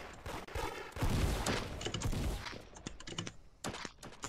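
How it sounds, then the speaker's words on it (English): Bursts of weapon fire and blasts in the Roblox game Da Hood during a raid, with rockets from RPGs among chaotic clattering shots and thuds. "Oh, yo, they're shooting RPGs."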